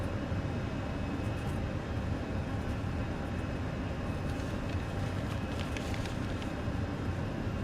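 A Fenix A320 airliner in Microsoft Flight Simulator accelerates down the runway on takeoff, a constant, dense roar of engine and rolling noise at an even, moderate level for several seconds.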